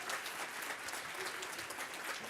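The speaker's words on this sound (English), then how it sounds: "You could clap it up for them." Audience applause fills the room at a celebration event for immigrants, a steady dense clapping that holds at an even level throughout without pause.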